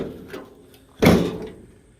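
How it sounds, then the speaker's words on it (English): Door of a 1951 Chevy Suburban panel truck project swinging on its hinges, a soft creak followed by one close, solid thud that fades out. "Yeah, the doors open and close with the hinges."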